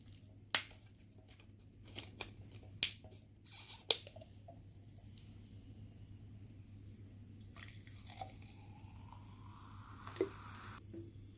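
Freshly opened bottle of Pepsi Salted Caramel fizzing, a faint soft hiss of bubbles with scattered sharp ticks and pops, quiet and close with no talking.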